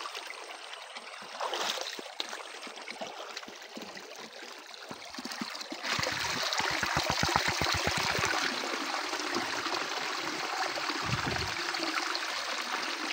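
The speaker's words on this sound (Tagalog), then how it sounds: "Ito, yung tubig bukal." Steady rushing and trickling of spring water flowing at the Siitan River, Nagtipunan, Quirino, Philippines, in rain, growing louder partway through, with a brief rhythmic knocking in the middle.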